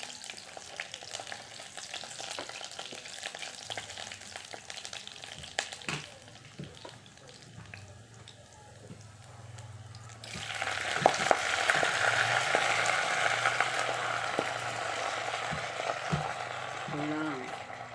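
Garlic alone frying in a pan for a simple home-cooked dish, a steady low crackle that swells into a loud, dense sizzle about halfway through and keeps hissing to the end, with faint speech in the background.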